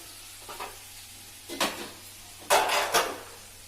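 Potatoes frying in a pan for curry, with a soft steady sizzle under a few scraping stirs of a utensil against the pan, close and isolated.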